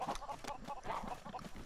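Chickens clucking in the Lego Worlds video game, a quick run of short, steady clucks at moderate level throughout, with no talk over them.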